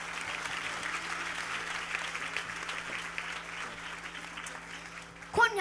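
Church congregation at a Tabernacle de Gloire holiness service in Hinche applauding steadily for several seconds, dense broadband clapping with a sustained hum underneath and a louder burst of cheering at the end.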